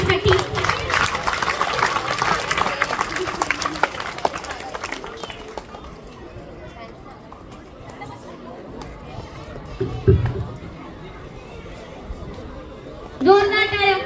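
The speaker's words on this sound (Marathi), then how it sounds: "सगळ्यांनी जोरदार टाळ्या पल्लवीसाठी." A crowd gives loud applause for a student at a police recruitment academy's selection ceremony; dense clapping fills the first few seconds, then fades into quieter room murmur with a brief voice near the end.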